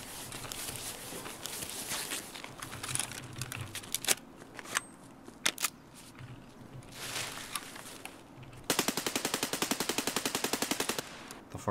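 Gunfire in the video game Escape from Tarkov on the Customs map: scattered distant shots and footsteps, then a close, rapid automatic burst of evenly spaced rounds near the end.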